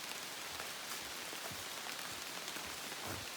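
Rain falls steadily on surfaces as a soft, even hiss with scattered drop patter, faint and continuous with no voices.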